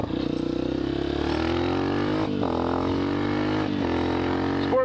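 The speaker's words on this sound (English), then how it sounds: "Sport bike, gotta go get him." A Suzuki GSX-R sport bike engine revs and holds a high, whining pitch with gear-change dips, steady and close, heard from the rider's position in traffic.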